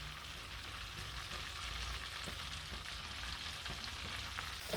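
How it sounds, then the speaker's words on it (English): Onions frying in heated oil and butter for a brain curry produce a faint, even sizzling hiss that holds steadily throughout. "the oil and butter have fused together and they've heated nicely and now we're going to add in the onions"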